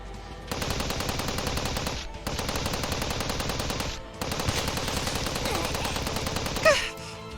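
Rapid bursts of automatic gunfire in the video game Steins;Gate 0, in three long sustained volleys separated by short pauses, with a faint gasp near the end.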